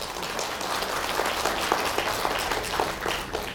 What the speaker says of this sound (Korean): 그분을 위해서 박수 한번 쳐드리세요.